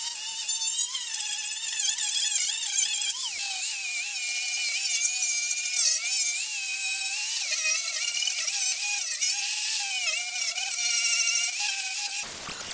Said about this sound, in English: the angle grinder with the wire wheel is doing a really good job